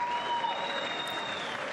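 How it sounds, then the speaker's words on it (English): Steady applause from a large audience before the State of the Union address fills the air, a continuous even clapping wash at moderate volume with no speech over it. "Not yet, because it's just loud with the clapping."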